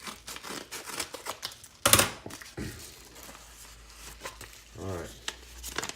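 Packaging from a mailed parcel holding a stainless steel guide rod rustles, crinkles and tears close by in irregular bursts, including one sharp rip, while a person murmurs intermittently.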